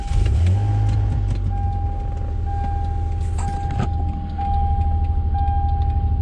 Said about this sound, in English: This car hasn't run for several days, so this is going to be a great test to see how strong this jump box is.